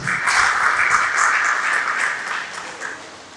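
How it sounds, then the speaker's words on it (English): Audience applause after a chairman is welcomed at a community gathering, a steady, loud wash of many hands clapping that holds for about three seconds and then tapers slightly, with no talk over it. "Another round of applause for the chairman."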